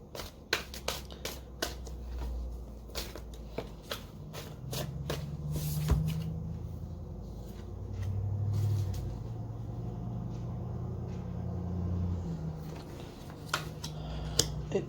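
Tarot cards being shuffled by hand in repeated crisp riffling bursts, close up, with a low rumble of passing traffic underneath and no talking.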